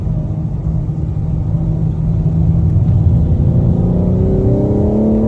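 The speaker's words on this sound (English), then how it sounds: "Accelerating up to 60 here." A BMW G80 M3 accelerating on BMW's Spartanburg factory track, loud steady engine rumble heard from inside with the pitch rising toward the end.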